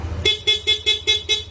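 Piaa horn fitted to a Yamaha NMAX scooter gives six sharp, evenly spaced toots in rapid succession, loud and close with no talk.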